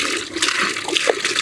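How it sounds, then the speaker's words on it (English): Fresh water pours steadily into laundry for an off-grid rinse, a close, continuous splashing gush with small bubbling variations throughout. "We're just going to add in some fresh water."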